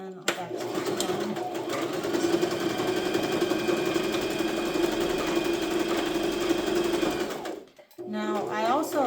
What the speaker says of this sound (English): I also love the sound of the sewing machine